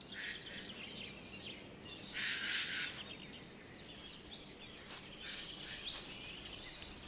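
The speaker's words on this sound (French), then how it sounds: "Dans le verger, presque tous les oiseaux trouvent un lieu pour nidifier et pour vivre." Birds singing in an orchard, a faint scattering of chirps and high trills over soft steady outdoor background noise, with no one speaking.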